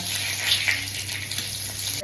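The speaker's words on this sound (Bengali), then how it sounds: "এটাকে হালকা মত একটু ভাজা ভাজা করে নিয়ে এই যে দিয়ে দিলাম তেজপাতা" A bay leaf sizzles in a hot tempering of mustard, cumin and panch phoron, a soft, even crackling hiss of frying oil that continues steadily with no one speaking.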